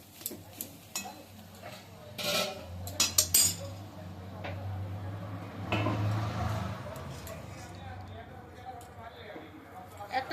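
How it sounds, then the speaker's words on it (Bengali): Cooked food is tipped from a pan onto a plate, with scattered clinks and scrapes of utensil against cookware, then a soft sliding pour, close by with a low background hum. "প্লেটে আমি ঢেলে নিচ্ছি ঠান্ডা করার জন্য"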